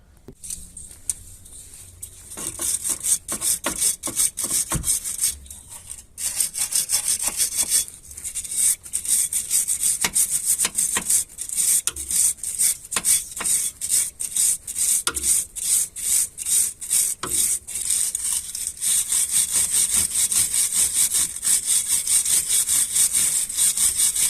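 An adjustment bolt head on the rear lateral arm suspension of a Kia Magentis being scraped clean by hand, rapid rhythmic rasping strokes, close and loud, continuing in bursts with brief pauses.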